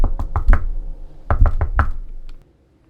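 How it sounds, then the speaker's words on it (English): Faint, echoing knocks from a tabletop fantasy adventure session sound in two rapid clusters of several raps each, with a reverberant tail before the sound stops. "You hear the sound of knocking, almost faint, like it's echoing."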